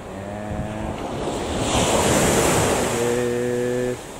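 Waves surge and wash along a rocky Japanese coastline of cobalt-blue sea near Kirara Taki, with wind buffeting the microphone; a steady, loud roar of surf that swells in the middle.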